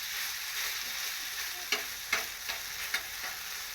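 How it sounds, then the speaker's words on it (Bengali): Hot oil splattering and sizzling in a pan while pitha fries, a steady hiss broken by several sharp pops and spits near the end. "দেখছো কিরকম ছিটকিচ্ছে তেলটা"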